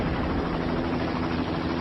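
A helicopter drones overhead, a dense, continuous rotor and engine roar that stays steady and loud throughout with no voices.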